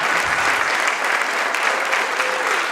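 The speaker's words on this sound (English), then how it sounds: "give them one more ginormous round of applause" An audience at a university pitch competition summit gives a sustained, even round of applause, a dense wash of clapping that stays steady throughout with no voices standing out.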